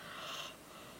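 A pet snoring: one breathy, snort-like intake of air with a soft hiss, heard close but fairly quiet, with no talking.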